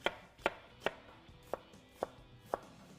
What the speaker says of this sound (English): So now I'm just going to run the knife through this quick.